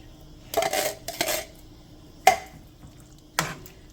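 A spoon stirs crushed tomatoes into a hot pot of chili base, giving several loud clanks and scrapes against the pot in separate bursts, close by with no talking.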